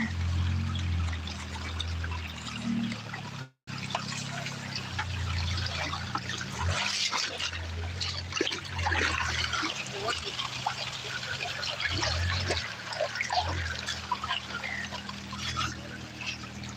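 The South Umpqua River at Lawson Bar rushes steadily in a side channel, a continuous close wash of flowing water that runs the whole way with only a momentary dropout.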